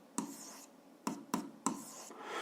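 Equation being written by hand, with four quick pen or chalk strokes and taps on paper or board, close and quiet, separated by short pauses.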